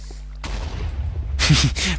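A Minecraft creeper explodes in the video game, a sudden broad burst that arrives after a low hum, with a brief voice sound near the blast.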